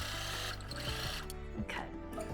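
Sewing machine stitching quilt fabric, needle down, a close, fairly quiet steady motor whir with rapid stitching rhythm that shifts pitch as speed changes, no talking.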